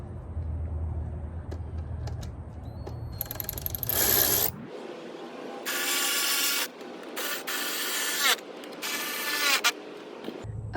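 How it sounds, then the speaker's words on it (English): A ratchet with a 10mm socket driving inner fender bolts on a Jeep JL with Fishbone Offroad fenders: bursts of fast, loud ratcheting clicks, several seconds each, separated by short pauses, with a low hum early on. "Next, we're going to grab our ratchet and our 10mm socket. And we're going to screw them all back in."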